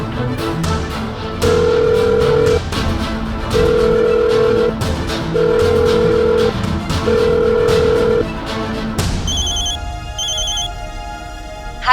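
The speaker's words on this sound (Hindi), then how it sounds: "मैं वनीता को ही कॉल करके पूछ लेती हूँ।" A telephone call is placed. A repeating ringback tone sounds in four evenly spaced beeps over a steady background, followed by a higher electronic chime as the line connects.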